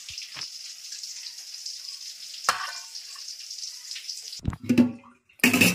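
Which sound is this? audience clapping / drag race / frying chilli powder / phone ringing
frying chilli powder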